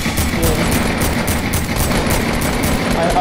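Rapid automatic gunfire from a Fortnite match, a steady stream of repeated shots at even pace, loud and continuous throughout, with faint background game noise.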